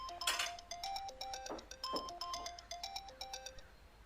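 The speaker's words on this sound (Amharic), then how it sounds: "ስልክሽ እየጠራ ነው።" A mobile phone ringtone plays a bright, tinkling electronic melody, fairly quiet and alone, repeating its short chime pattern.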